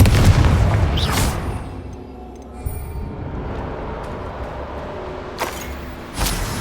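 A Confringo fire-spell blast in Hogwarts Legacy lands with a heavy booming rumble, followed by a sustained roar and a couple of sharper crackling bursts near the end.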